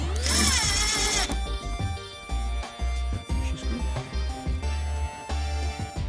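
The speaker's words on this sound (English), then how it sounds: "then just pop another screw in the middle" A power screwdriver drives a screw into a BMW X5 G05 LCI body kit panel, opening with a loud, rising whir and followed by shorter bursts and clicks at close range.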